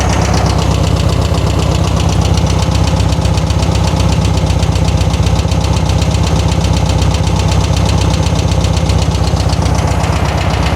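A 1972 VW Karmann Ghia engine runs steadily with a loud, rapid metallic knocking throughout, close and continuous with no talking.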